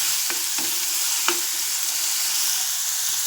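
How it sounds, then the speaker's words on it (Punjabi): Mustard greens half-fried for Punjabi saag on a traditional chulha, a steady close sizzle with a few soft stirring clicks, with no talking. "ਆਪਾਂ ਚੰਗੀ ਤਰ੍ਹਾਂ ਫਰਾਈ ਕਰਦੇ"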